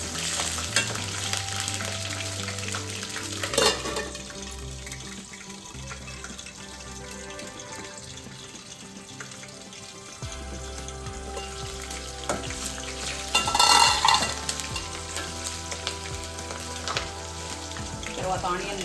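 Green chillies fry and get stirred in a pan while cooking a bottle gourd curry, with a steady sizzle broken by scraping stirs and a louder burst of spatter midway.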